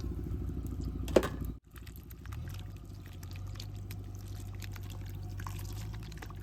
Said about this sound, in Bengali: বেশ সুন্দর করে জল দিয়ে নেব।